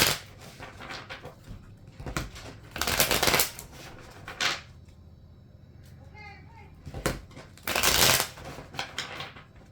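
A deck of tarot cards is shuffled in several close, crisp riffling bursts, separated by quieter handling and short pauses, with no talking over it.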